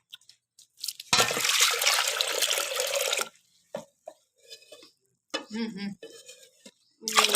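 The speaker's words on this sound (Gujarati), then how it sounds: "એમાં પાણી નાખું." A burst of water pours into a pot of lentils for about two seconds, close and fairly loud, followed by scattered clinks and short kitchen noises.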